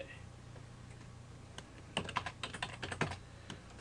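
Someone types on a computer keyboard in a quiet room against a low steady hum. A few isolated keypresses are followed by a quick cluster of close, crisp clicks.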